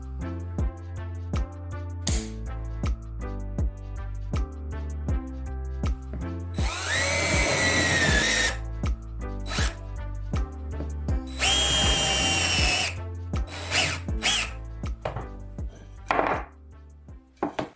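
A power drill fitted with a zip-tie depth limiter whirs in two loud bursts, separated by clicks, taps and clatter of tools being handled nearby.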